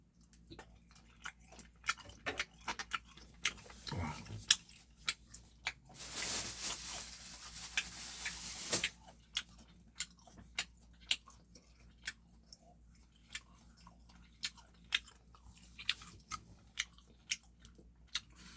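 Someone eating cooked octopus and prawns, with close, quiet wet chewing and small biting clicks that recur at an irregular pace, plus a brief louder rustling burst midway.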